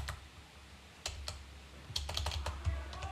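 Computer keyboard typing with a few isolated keystrokes followed by a faster burst of clicks, close and moderately loud, with no talking.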